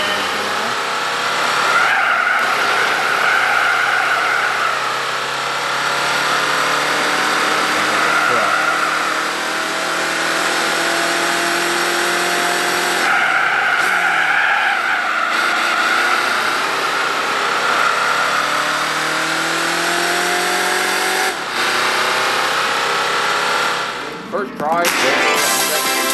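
Diesel car racing in a driving video game, engine revving and tires skidding and squealing almost continuously, loud and close, with a voice speaking at times over it.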